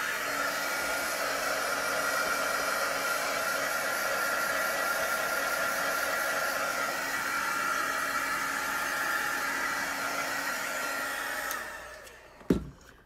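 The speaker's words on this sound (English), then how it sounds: "Let me hit this real quick with the heat gun and get it moving." A heat gun blows steadily on ink on a tumbler, a loud continuous whooshing hiss that runs close up for about eleven seconds, then cuts off, followed by a brief clunk.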